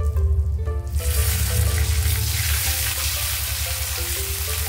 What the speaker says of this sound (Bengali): এখন কুচনো পেঁয়াজ অ্যাড করব।